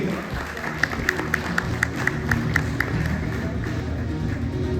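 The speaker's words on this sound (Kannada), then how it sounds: "ಮತ್ತೊಮ್ಮೆ ಜೋರಾಗಿ ಚಪ್ಪಾಳೆ ಬರಬೇಕು ಅಂತ ಕೇಳ್ಕೊಳ್ತೀನಿ" Audience applause at an award ceremony for a prize winner of a Royal Enfield motorcycle, a steady wash of many hands clapping at moderate volume with a few sharper individual claps standing out.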